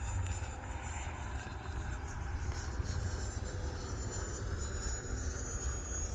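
An E-flite F-16 Viper 80mm electric ducted fan RC jet flies at just over half throttle, giving a steady, continuous whooshing whine with a broad low rumble and a high turbine tone, constant loudness throughout, no talking.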